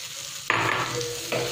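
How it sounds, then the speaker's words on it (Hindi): Garlic and potato pieces sizzle in a hot pan as a spoon stirs them, two sharp scraping bursts over a constant frying crackle. "इसको अच्छे से सुनहरा होने तक हम भूनेंगे।"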